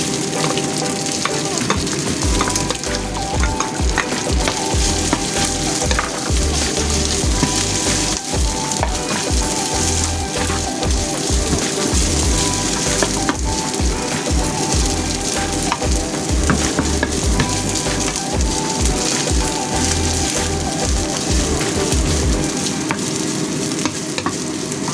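Cooked rice frying in a pan for Filipino sinangag garlic fried rice, a loud, steady sizzle with repeated rhythmic scraping and stirring strokes of a spatula, up close with no talking.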